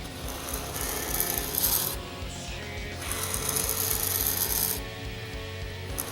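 A Tachikawa TankMaster Maru pen drawing four freehand lines on paper, heard as steady scratchy rasping strokes that come in longer bursts, close and fairly quiet, with no talking.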